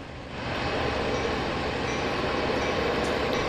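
A train rolling in the simulator game Train Sim World 2, a steady loud rumble of wheels on track that swells in the first half-second, then holds constant and close.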